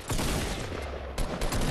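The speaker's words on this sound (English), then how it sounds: "Oh shit, we're getting shot, boys." Rapid gunfire in the battle royale game Fortnite during a squads match, a dense, loud burst of shots packed close together with a couple of sharper cracks near the end.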